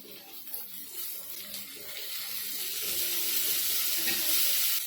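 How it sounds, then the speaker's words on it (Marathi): Fish frying in oil, a soft, steady hiss that grows slightly louder over a few seconds, fairly quiet and continuous, with no voices. "मी थोडंसं तेल टाकते"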